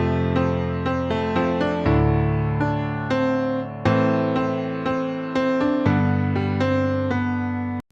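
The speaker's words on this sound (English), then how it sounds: "if you just penciled in a bunch of chords and some melody, and it's all the same velocity." Piano VST chords with a melody on top, each note struck at the same even velocity, giving a stiff, mechanical feel.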